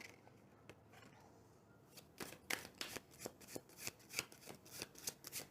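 Tarot cards shuffled by hand at close range, a faint stretch giving way to a rapid run of crisp riffling snaps and flicks, quiet and with no voices.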